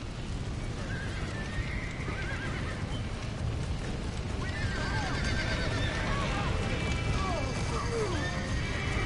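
Horses whinny and neigh repeatedly over a clatter of hooves amid rumbling crashes during a ranch rescue in the video game Red Dead Redemption, with a steady dense background of game noise throughout.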